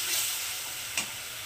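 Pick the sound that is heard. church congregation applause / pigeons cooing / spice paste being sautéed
spice paste being sautéed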